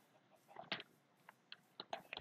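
Chickens in the Minecraft video game give soft, scattered clucks, several short calls spread across a quiet background.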